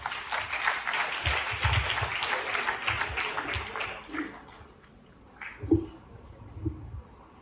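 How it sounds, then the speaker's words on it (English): Audience applause at a Model UN workshop (SLMUN 2023), a broad wash of clapping through the first four seconds that then thins and fades, followed by a few scattered low thumps and noises in a quieter hall. "Please give them a round of applause."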